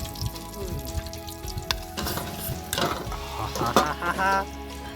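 Chicken leg pieces sizzle and crackle in hot oil for a home-made KFC-style recipe, a steady close frying hiss with stirring noises and occasional louder pops.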